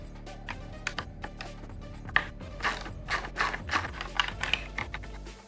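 A hand ratchet fitted with a 10mm socket loosens bolts on a 2024 Triumph Tiger 900 Rally Pro during tail tidy fitting, giving bursts of quick close clicking pawl strokes with short pauses between.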